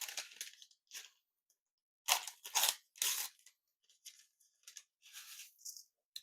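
Two packages of Lipton onion soup mix are torn open and shaken into burger meat mixed with breakfast sausage, heard as close, quiet bursts of paper crinkling and dry granular rustling separated by silent gaps.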